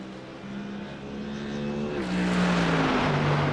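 A Mercedes-AMG car engine in a racing video game, heard through sim pedals, revs up in a steady rising tone, with a gear shift and a deeper, louder roar that keeps climbing.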